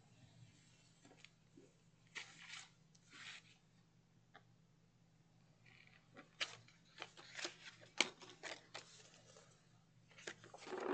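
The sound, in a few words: scissors trimming paper for notepad craft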